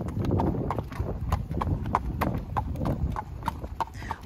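Horse hooves clip-clop at a steady walking rhythm on a hard road during a leisurely hack with two horses. The clopping is close and continuous over a low background rumble.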